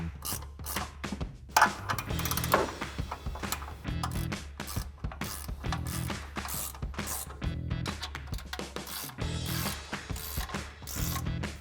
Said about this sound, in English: take a 14mm ratcheting wrench and tighten down